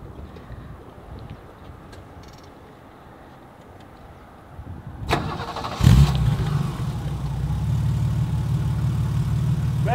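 A BMW E30 325i with a Supersprint exhaust cranks and fires up midway, then settles into a steady, fairly loud idle, preceded by quiet outdoor background noise.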